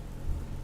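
Heavy rain pours down hard outside a house during a storm, a dense, steady hiss with a low rumble running continuously through the short stretch and no voices.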